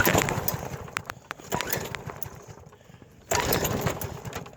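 A Toro lawnmower with engine problems runs roughly, its motor surging and sputtering unevenly with dips and a sudden loud pickup near the end.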